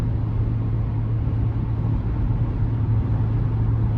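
A 2023 Chevy Tahoe RST Performance Edition with the 6.2-litre V8 cruising on an interstate. Heard from the cabin as a steady, close low rumble of engine and road noise, with no talk.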